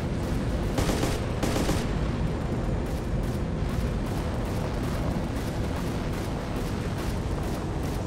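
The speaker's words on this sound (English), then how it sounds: "Enemy fire! Enemy fire!" Enemy gunfire in the military game Arma rattles in dense, continuous bursts of shots, loud and close, over a heavy rumbling battlefield din with no voices.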